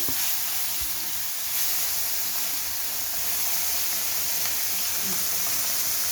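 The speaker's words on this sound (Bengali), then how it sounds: "আস্তে আস্তে আমি ভেজে দেবো" Small fish frying slowly in hot oil, a steady broad sizzling hiss close up that continues unbroken, with faint kitchen clatter underneath.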